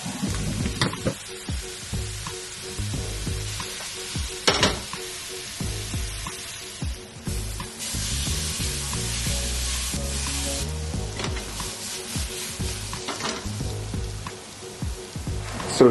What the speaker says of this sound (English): I'm going to toss it all together with the lid on and then add that into this pan, which is heating up with some oil at the moment